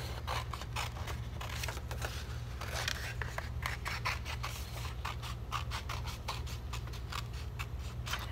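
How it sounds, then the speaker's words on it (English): Scissors cut out paper owl shapes in a craft demonstration, a steady run of close, crisp snipping strokes with a faint low hum underneath and no talking. "So I'm gonna cut them out."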